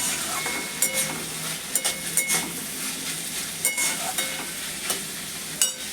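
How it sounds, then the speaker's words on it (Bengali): Vegetables frying in a pan with a steady crackling sizzle, punctuated by repeated scraping stirs of a spatula, close and moderately loud with no talking. "ভাজা প্রায় হয়ে আসছে।"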